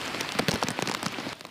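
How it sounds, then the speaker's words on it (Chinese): Heavy rain pours down steadily in Nantou, a dense close patter of drops on surfaces without pause. "大雨落袂停"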